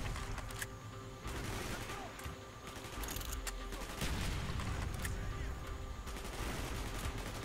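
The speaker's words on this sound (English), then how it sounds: "Gunfire's drawing attention." Gunfire in the video game Call of Duty Black Ops, with rapid bursts of automatic shots and sharp single cracks crowding a loud, busy combat soundscape, some booms underneath, with someone talking at times.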